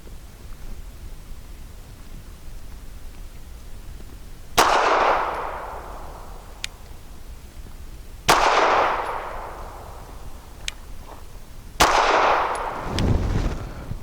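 Three separate gunshots from a Bersa TPR9 pistol at a shooting range, each a sharp loud crack with a brief echoing tail, spaced a few seconds apart over steady background noise.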